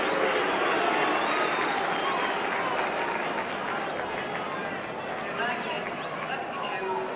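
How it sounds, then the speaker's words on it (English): A large football crowd at Old Trafford, Manchester United against Ipswich Town in the 1972/73 First Division, applauds a Manchester United substitute coming on. It is a dense, steady roar of clapping and crowd noise that carries on without a break. "that applause greets the appearance of the Manchester United substitute Sammy McIlroy"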